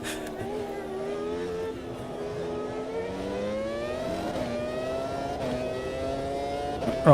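Race car engine in Automobilista 2, a steady rising and falling drone with gear changes as the revs climb and shift, heard from the cockpit with someone talking over it.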